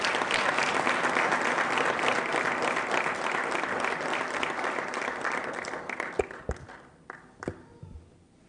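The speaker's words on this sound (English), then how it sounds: "Can we give him a round of applause?" Applause from a graduation ceremony audience greeting a guest, a dense, loud round of clapping that thins into scattered claps before fading out.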